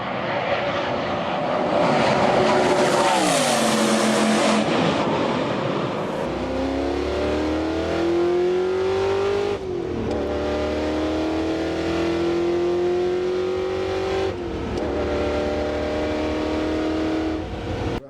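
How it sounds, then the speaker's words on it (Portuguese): Ford GT with a supercharged V8 accelerating hard and passing, its roar climbing through the gears with shifts, loud and close, with no voices. "bota um trecho de um Ford GT acelerando, o ronco dele passando e de dentro"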